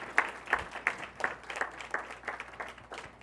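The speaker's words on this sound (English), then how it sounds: "please give our semifinalists and finalists a round of applause" Sparse, irregular hand clapping from a few audience members at a school awards program, fairly quiet and thinning out over a few seconds.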